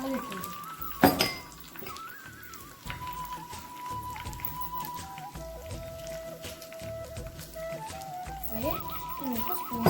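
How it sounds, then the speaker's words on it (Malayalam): A spoon stirs pumpkin and bean erissery in a pot, giving a scattered series of soft scrapes and light clinks, one sharper knock near the start, over a steady background hum. "നമുക്ക് സ്പൂൺ വെച്ച് അതിനെ ഒന്ന് ഇളക്കി"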